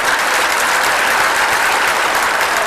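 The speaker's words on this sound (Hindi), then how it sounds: "जरा एक जोरदार तालियां तो बजा दीजिए कि हमें गर्व है।" Loud, dense applause from a crowd at a gathering celebrating national pride, a continuous roar of clapping at steady intensity throughout.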